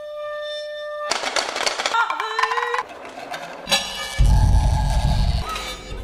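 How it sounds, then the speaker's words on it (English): A cymbal ground against the edge of a rotating vinyl turntable with a drumstick, in Liza Lim's opera Atlas of the Sky, gives metallic clanks and scrapes, then sustained singing tones with a gliding pitch, next to a rumbling low-frequency burst. "They're grinding it against the edge of a rotating vinyl turntable."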